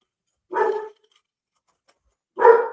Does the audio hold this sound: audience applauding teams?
no